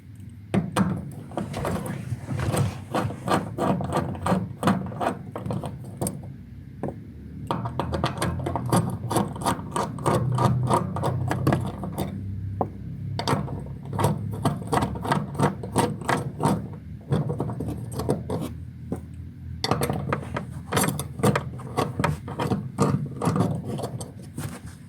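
Quarter-inch drive ratchet undoing small, loose bolts on a Hyundai i30 during fuel pump work, rapid clicking pawl strokes in repeated bursts with short pauses, close and moderately loud.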